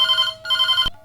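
A warbling electronic telephone ring on a Bundeli folk-song radio phone-in program, sounding in two close, steady bursts before cutting off with a sharp click.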